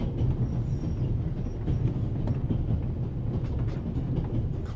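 A moving train in the video game The Raven rumbles steadily for the whole stretch, a dense low clatter of wagons and wheels with faint metallic ticks on top, close and continuous with no voices.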